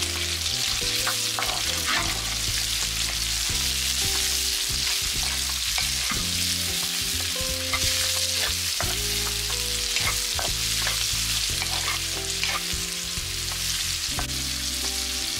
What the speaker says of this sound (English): After the garlic, just add the mushroom and cook it for about a minute.